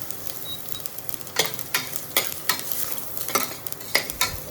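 Chopped garlic sautéing in a pan on an induction stove gives a soft, steady sizzle, broken by a series of sharp scraping stirs from a utensil, close and fairly quiet with no talking.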